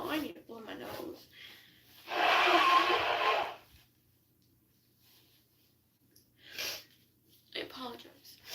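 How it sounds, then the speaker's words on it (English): A person blows their nose once, a loud, broadband honk lasting about two seconds, with brief talk before and after and quiet pauses around it. "I need to blow my nose."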